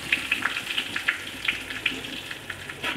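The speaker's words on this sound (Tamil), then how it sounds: "இது நல்லா பொரிச்சு எடுத்துக்கலாம் ஃப்ரெண்ட்ஸ்." Curry leaves and dried chillies fry in hot oil, giving close, lively sizzling with quick crackling pops spread unevenly throughout, and no talking.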